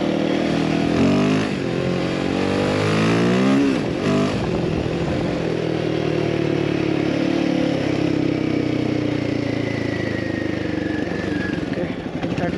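A Himalayan 450 motorcycle build is ridden by a rally racer, its engine revving and pulling under acceleration with steady road and wind noise, and a voice talks over the engine early on.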